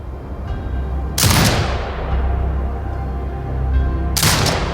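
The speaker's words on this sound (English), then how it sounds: "Exit binocular mode and command the turret to fire." Two heavy gunshots ring out from a sniper turret in the video game Sniper Ghost Warrior Contracts 2, a few seconds apart, each a loud sharp crack with a long echoing decay over low background ambience.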